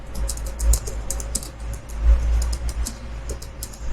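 Rapid clicking keystrokes on a computer keyboard as a ChatGPT prompt is typed, close and crisp in irregular bursts over a low background rumble, with no voices.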